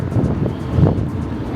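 Wind buffets the microphone on the open top deck of the Royal Caribbean cruise ship Navigator of the Seas, a loud, low, rumbling roar with gusty swells and no voices.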